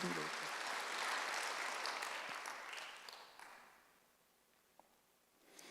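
A church congregation at a Sunday worship service claps together, a loud wash of applause that peaks in the first seconds and then dies away to near quiet, with a few stray claps at the end.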